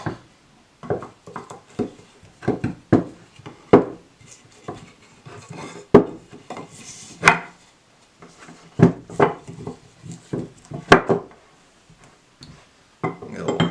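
Numbered wooden pieces for a glass-encased wood vase being flipped over and handled on a work surface, giving a string of close, sharp wooden knocks and clacks with brief rubbing between them.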